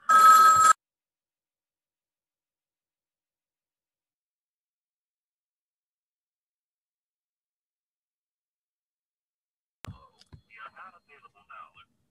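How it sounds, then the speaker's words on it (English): An old-fashioned telephone bell gives one short, loud, bright ring, followed by a long silence and then faint, brief talk. "Oh boy, that's my phone going off."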